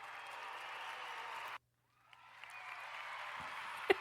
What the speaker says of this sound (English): Let's play some cheering music.